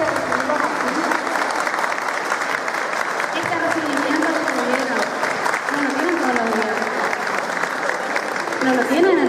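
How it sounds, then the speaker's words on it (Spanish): Sustained applause from a crowd fills the space, steady clapping that swells slightly toward the end while a voice carries faintly underneath. "Un aplauso, por favor, para sus directivos."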